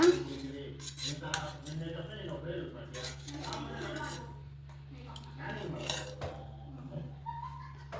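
A metal spoon scrapes and clinks against a cooker pot as egg dum biryani is mixed, under a steady low hum with occasional voices.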